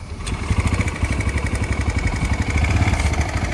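A TVS Raider motorcycle engine idles after an overhaul, running close by with a steady, even putter and a faint ticking rhythm throughout, with no voices over it.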